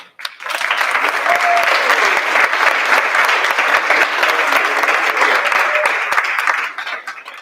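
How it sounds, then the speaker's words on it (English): A crowd at a school district board meeting applauds continuously for several seconds, a dense steady wash of clapping that tapers off at the end. "One last applause for our 30 year"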